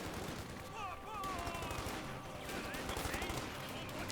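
Riflemen and a machine gun exchange fire in Company of Heroes 2, a dense, continuous mix of rapid shots and bursts with game battle noise throughout.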